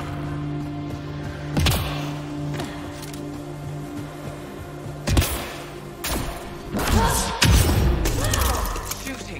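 Gunfire and impacts in the video game Mass Effect Andromeda, set in frozen ice caves: scattered sharp bangs and heavy thuds over a steady low ambient drone, with a few bursts clustered near the end.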